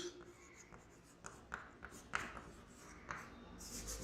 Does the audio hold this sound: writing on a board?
yes